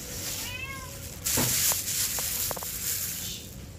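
A cat meows once, a short high cry, followed by faint tapping over a steady background hiss of rain or wind.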